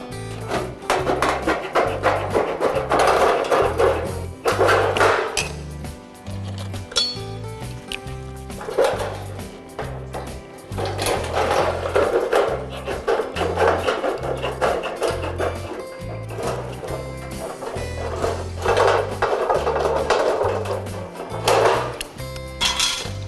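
Tin snips cut steel log siding in a series of metallic crunching and clanking bursts, separated by short pauses, close and loud.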